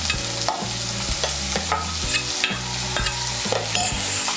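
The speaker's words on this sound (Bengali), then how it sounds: "পেঁয়াজ কুচি আর লঙ্কা কুচিটাকে তেলের সঙ্গে মিশিয়ে নিয়ে লাল করে ভেজে নেব।" Chopped onion and green chilli frying in oil while being stirred: a continuous sizzle broken by regular spatula scrapes, heard close over background music.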